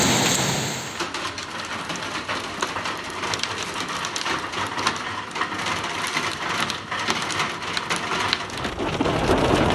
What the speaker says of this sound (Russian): В Москве началась сильная гроза